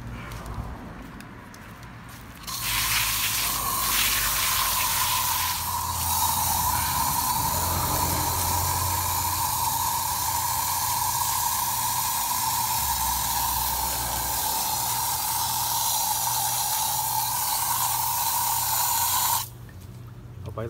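Water spray hisses steadily as a 2001 Triumph Sprint RS 955i motorcycle radiator full of rust is flushed out, a loud continuous rush running for most of the clip before cutting off, with only quieter background at the start.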